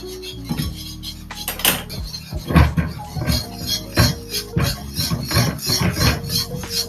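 Metal spoon scraping and stirring food in a pot on the stove, a steady series of rubbing, clinking strokes repeated continuously, close and fairly loud with no talk.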